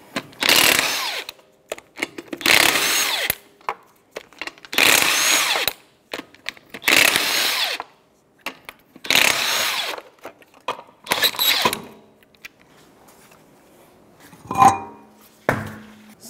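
A power tool with a 19 millimeter socket removes the wheel lug nuts from a 2007-2010 Chrysler Sebring, sounding as about six loud, close, buzzing bursts of roughly a second each with pauses between, then a few clinks.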